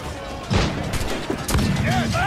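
A small ship cannon fires in the Assassin's Creed IV Black Flag video game, giving a couple of close booming blasts over game effects, with someone talking throughout.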